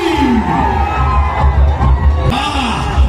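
A large crowd cheers, whoops and shouts continuously as elephants make their grand entry at the Parimanam aanayoottu temple festival in 2024, with loud, dense roaring voices close by.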